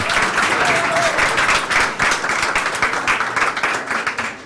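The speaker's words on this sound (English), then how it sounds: "Let's give a warm applause to Arsen." An audience at an e-Residency anniversary event gives steady, dense applause, with many hands clapping close by. It holds strong and then starts to thin out near the end.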